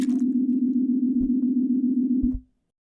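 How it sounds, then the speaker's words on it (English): Sampled bean splash tuned to a C, played back as a steady sustained synth-like tone with a slight wobble, holding evenly for over two seconds before cutting off into silence. "we have our bean splash sample tuned to a C"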